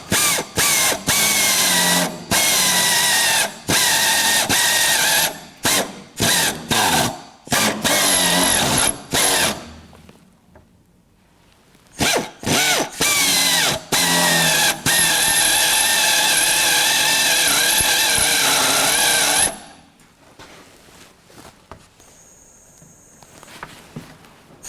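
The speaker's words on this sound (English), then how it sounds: "So we're going to go in and drill these out," A spot weld removal drill cuts out spot welds on sheet metal in a welding workshop, loud whining bursts of drilling repeated in stops and starts, broken by short pauses and a quieter gap midway and at the end.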